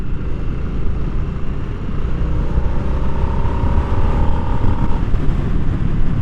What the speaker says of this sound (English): That's rolling into it in 4th gear, and there's no chug-a-lug like the old bikes, because it's not the old style motor